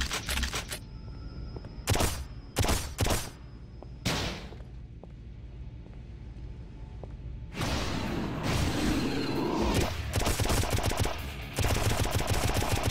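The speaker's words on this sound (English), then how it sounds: "Why is it only shooting Ninja Stars?" A weapon in the video game Painkiller: Hell & Damnation fires ninja stars in quick bursts of sharp, clattering shots, separated by quieter gaps, then a long dense stretch of rapid firing and impacts.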